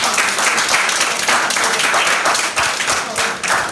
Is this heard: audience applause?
yes